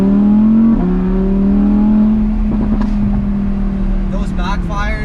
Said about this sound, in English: just to hear the engine again and in the exhaust purr a little bit.